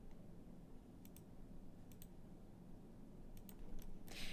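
Computer mouse clicks while outlining windows in kitchen design software: sparse, crisp single and double clicks spaced a second or so apart over a low steady hum, ending in a brief burst of rustle.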